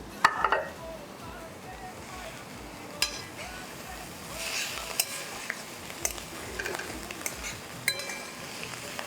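Potato masala filling with coriander leaves is stirred in a pan, with a spoon scraping and clinking against the metal in irregular sharp taps over a soft background rustle.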